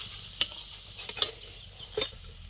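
An aloo paratha frying in a pan, soft sizzling beneath a few sharp clicks and scrapes of a utensil against the pan, quiet and close with no voices.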